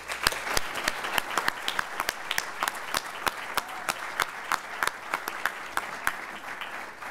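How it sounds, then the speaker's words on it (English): Graduates at a 2013 medical university commencement receive a steady, full round of applause from the audience, with many sharp individual claps standing out over the dense clapping throughout. No one speaks. "applause."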